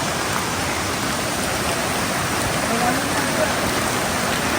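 Heavy rain pours steadily on a mountainside, a dense, loud, unbroken hiss of downpour with no pauses or talking.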